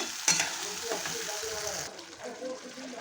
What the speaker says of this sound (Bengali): মশলাটাকে আগে আমি ভালো করে কষিয়ে নেব